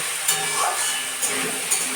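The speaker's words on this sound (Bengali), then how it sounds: "তার মধ্যে আলু কড়াইশুটি টমেটো কাঁচা লঙ্কা ভাজা হচ্ছে ভালো করে" Potatoes, peas, tomato and green chili frying in hot oil with cumin and dried chili in a pan, a steady bright sizzle with faint clinks of stirring, close and alone.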